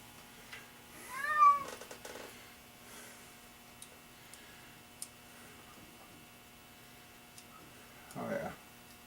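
A cat meows once in a rising, wavering call in a garage where engine work is underway, followed by faint scattered ticks and a short muffled sound near the end.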